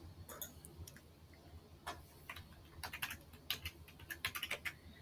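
Typing on a computer keyboard, faint scattered key taps that quicken into a short burst near the end, quiet room without talk.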